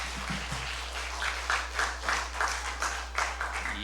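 Congregation at a Sabbath welcome service clapping, a fairly faint patter with soft rhythmic bursts over a steady low hum, continuing for a few seconds.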